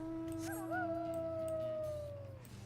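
A wolf howls in the video game Final Fantasy XIV, a single long, clear, rising-then-falling howl that holds steady and fades, close and fairly loud over a quiet low background.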